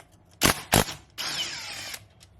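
A power tool with an E12 socket on a long extension whirs briefly to spin bolts off a Mercedes SLK32 or C32 throttle body, two short sharp bursts followed by a steadier, longer whir, close and fairly quiet.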